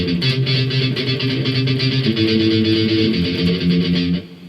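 A palm-muted electric guitar chugs steady eighth-note power chords through the verse of a song, a dense, driving rhythm played alone without voices for several seconds.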